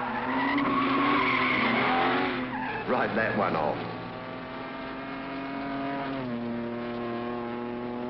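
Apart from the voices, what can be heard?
stock cars racing and skidding round a quarter-mile track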